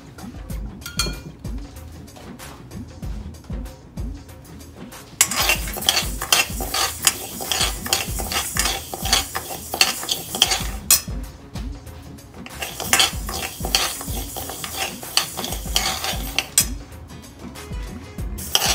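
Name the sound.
mung dal dry roasting, stirred in pan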